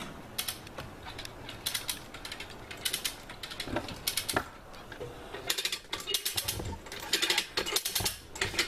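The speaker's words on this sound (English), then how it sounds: "I hear ratcheting." A ratchet is cranked in quick repeated bursts of sharp clicking, moderately close, pausing briefly between runs and resuming several times, with light mechanical creaks in between.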